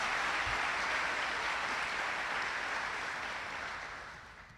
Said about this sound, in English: One more round of applause for our graduates.